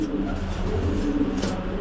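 Pigeons coo softly and continuously in low tones, a steady murmuring backdrop with no talking, close by and at moderate level.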